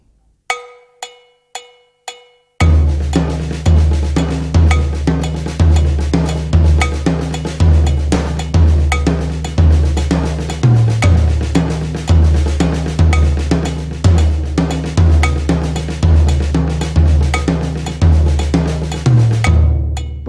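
A drum set plays an Indian-style rhythm built on a paradiddle with accented tom strokes, opening with a few sparse hits and then settling into a loud, steady repeating pattern of driving beats.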